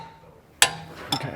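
Torque wrench on a BMW F30 328i rear suspension bolt during wheel bearing replacement, giving two sharp metallic clicks about half a second apart, close and loud over quiet shop background.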